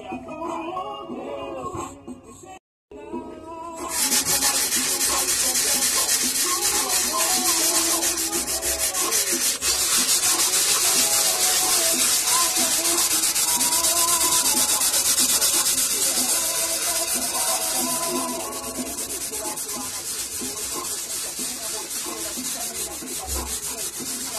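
Hand sanding of black paint on a 2012 Honda Fan 125 motorcycle part with 150-grit sandpaper. After a brief pause it becomes continuous, steady rubbing and scratching, close and loud, with no voices.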